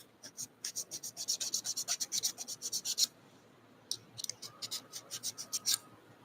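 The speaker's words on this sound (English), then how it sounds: "Let's see if we can't get the rest of this gasket off." An old gasket scraped off a tractor PTO housing, two bursts of quick rhythmic rasping strokes, about a dozen each, separated by a short pause, close and fairly quiet with no talk.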